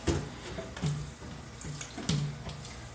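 Potatoes are rinsed under a running kitchen tap, with steady water flow broken by rhythmic splashing surges about once a second, close and fairly loud.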